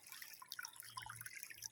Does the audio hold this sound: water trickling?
yes